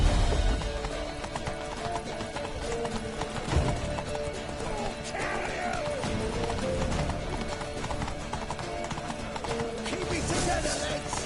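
Horse hooves clip-clop at a gallop in The Witcher 3, a steady running rhythm under thick game music and ambience, with occasional neighs and brief voices mixed in.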